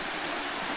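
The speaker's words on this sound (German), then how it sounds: "Hier hat sich ein spezieller Wasserfall gebildet, da die Wasserleitung ist undicht und macht dann hier so einen kleinen Nebenarm auf." Water pours from a leaking water pipe as a small waterfall, a bright steady hiss and splash heard close and alone over a very short stretch.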